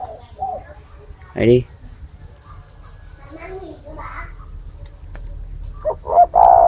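A cu dove, the spotted dove kept as a singing bird, perched on a hand and giving short cooing calls amid faint insect chirps, with people talking nearby between the calls.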